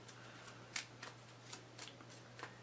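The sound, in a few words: shuffling a deck of cards in a card game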